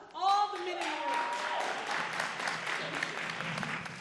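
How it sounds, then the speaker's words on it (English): A room of attendees at a breast cancer awareness summit panel applauds the men present, with a short whoop and voices at the start before steady, moderate clapping continues to the end. "can we give a round of applause to all the men in the room?"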